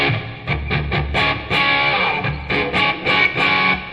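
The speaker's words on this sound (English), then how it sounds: "We put on a little distortion with the plexi" A distorted electric guitar through a Tech 21 Fly Rig 5 with plexi distortion plays chunky chords in short bursts and sustained strums, crunchy and loud, with no one talking.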